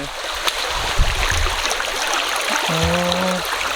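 Outdoor stream with water flowing steadily, a continuous close rushing and trickling wash throughout, with a brief voice near the end.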